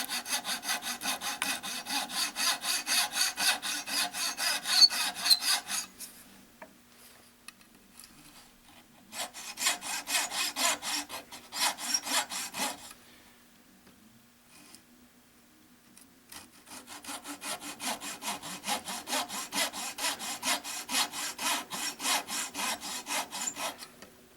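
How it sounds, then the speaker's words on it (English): Hand saw cutting a slot across two wooden pieces held together, steady rasping back-and-forth strokes in three bursts separated by short pauses, close and fairly loud. "I'm about to cut the slot for the pin shelf. So we'll go across both pieces at the same time."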